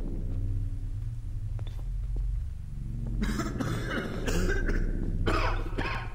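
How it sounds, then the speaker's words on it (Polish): Several people cough together in a smoke-filled elevator in the video game Elevator: Source, the harsh coughs starting partway through and repeating in loud overlapping bursts over a low rumble. "A wszyscy kaszlą, aha, bo nas tutaj zadymia"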